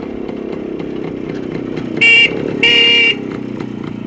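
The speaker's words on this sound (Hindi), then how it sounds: "इस कदर बाइक चलाकर हॉर्न बजाते हुए सारे मोहल्ले के लोगों को इत्तला देकर यहां मत आया कीजिए" A motorbike idles with a steady, pulsing engine throb close by while its horn sounds twice, a short blast followed by a longer one.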